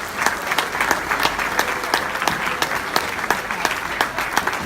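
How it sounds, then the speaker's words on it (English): An audience at a literary award ceremony applauds for Tiziano Thomas Dossena, a steady, even patter of many hands clapping with sharp individual claps standing out, heard alone without talk. "Another round of applause for Tiziano"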